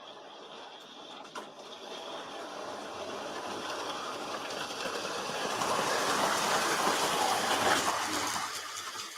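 A model train runs along a model railway, a steady whirring rattle with light clickety-clack that swells slightly louder midway as it passes closer.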